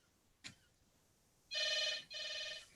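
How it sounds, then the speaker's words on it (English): A telephone rings indoors in two long electronic bursts separated by a short gap, fairly clear and close, after a brief faint knock and without any talk. "Phone again now?"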